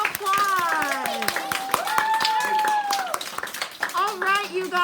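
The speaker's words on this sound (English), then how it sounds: "Big round of applause." Audience at a high school chemistry magic show claps in quick, uneven bursts, with children's voices calling and cheering loudly over the hands.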